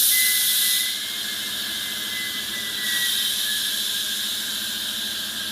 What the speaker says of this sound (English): Bleed off the pressure, use it to open and fill the valve.